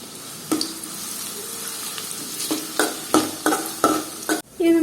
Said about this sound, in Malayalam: 3 ചെറിയ ഉള്ളി ചെറുതായിട്ട് അരിഞ്ഞതാണ് ഇട്ട് കൊടുക്കുന്നത്.